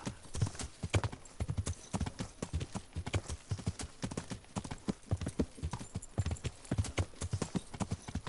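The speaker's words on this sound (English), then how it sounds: "Got my horse right near the door." Horse hooves clip-clop in a steady, even walking rhythm on a hard surface in the video game Kingdom Come: Deliverance, close and distinct, with no talk over them.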